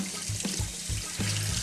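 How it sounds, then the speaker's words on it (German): Cold tap water runs steadily over boiled potatoes in a kitchen sink, a close, continuous splashing hiss with small irregular gurgles and knocks, no talk heard. "Dann tun wir die mit kaltem Wasser ein bisschen abschrecken."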